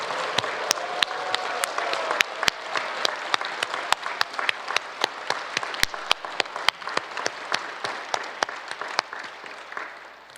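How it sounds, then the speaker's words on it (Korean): A church congregation at a 130th-anniversary worship service applauds loudly, a dense roar of clapping and cheering that thins over ten seconds into scattered, sharp individual claps near the microphone. "우리 함께 오늘의 주인공이신 우리 하나님께 박수와 큰 함성으로 한번 영광을 돌려드렸으면 좋겠습니다"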